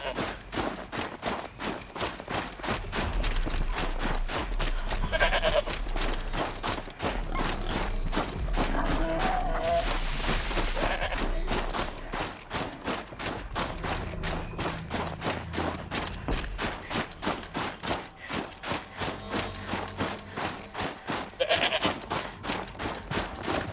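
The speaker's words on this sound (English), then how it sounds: "Sheep." Sheep bleating in Horizon Zero Dawn, repeated calls over a dense busy background of rapid clicks and sharp crackling bursts, fairly loud throughout.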